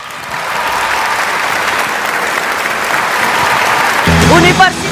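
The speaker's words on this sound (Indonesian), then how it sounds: "Beri tepuk tangan yang meriah, Mbak Rosiana Silalahe." Loud, sustained audience applause fills a university campus forum hall, steady and dense throughout, with a voice rising over the clapping near the end.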